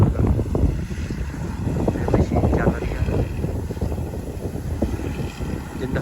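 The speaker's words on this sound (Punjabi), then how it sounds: "ਹਵਾ ਜੀ ਵੀ ਬਹੁਤ ਜ਼ਿਆਦਾ ਆਈ ਹੋਈ ਹੈ" Strong wind sweeps across a wheat field, a steady rough rush and microphone buffeting filling the whole stretch, with a voice speaking faintly beneath it.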